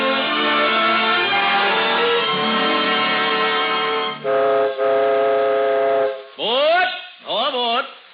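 A radio drama's imaginary train ride: a long, loud, sustained whistle-like chord, then two sharp blasts that swoop in pitch near the end, heard alone without talk.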